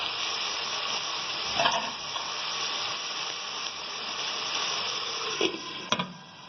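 Masala and meat fry in a covered pan with a few spoons of added water, giving a steady moderate sizzle and hiss with occasional brief clinks and stirring bumps, no voices.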